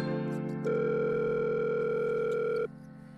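An office telephone in the video game Happy's Humble Burger Barn gives a steady, loud dial tone for about two seconds over a low background hum, then cuts off.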